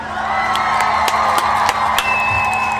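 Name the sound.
round of applause and cheering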